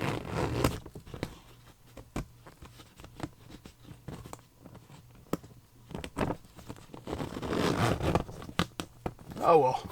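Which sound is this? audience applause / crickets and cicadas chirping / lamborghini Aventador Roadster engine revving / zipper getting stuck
zipper getting stuck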